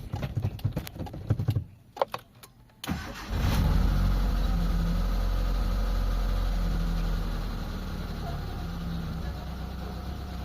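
A Mitsubishi Lancer GSR with a misfire fault and low power is cranked and fires up after a few short bursts of handling noise, then settles into a loud, close, steady running rumble that eases slightly.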